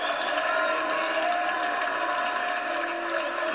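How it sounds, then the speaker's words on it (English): A large opera house audience at the season opening, with the president of Italy attending, fills the space with a steady, dense wash of applause and crowd noise that holds at an even level throughout. "The applause you hear is not coming from the Loggianisti."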